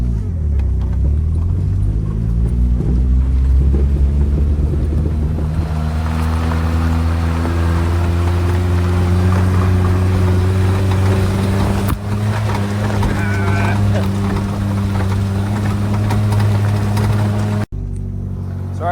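A lifted Toyota Tercel SR5 wagon in four-wheel-drive granny gear labors up an off-road hill, its engine droning loud and steady with a slowly rising pitch before cutting off abruptly near the end.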